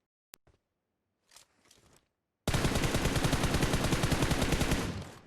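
Gunfire in the PUBG Mobile battle royale game: a single sharp shot and a scattered burst first, then a loud, sustained rapid-fire volley of evenly spaced shots lasting almost three seconds.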